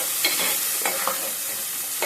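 Onion frying in hot oil with mustard seeds, cumin seeds, fenugreek and urad dal, a bright steady sizzle with a few soft stirring scrapes, close and brief.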